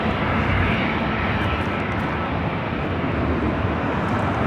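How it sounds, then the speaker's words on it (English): Delta Airlines Airbus A319 jet at LAX, bound for Denver, giving a steady, broad engine roar that holds loud and close throughout with no break or talk. "That is Delta Airlines flight 2466. Flight will be heading to Denver in this A319."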